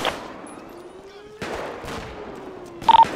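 Gunfire in the video game GTA 5 during a police patrol: a few sharp shots ring out over a steady background, with a tight burst of rapid cracks near the end.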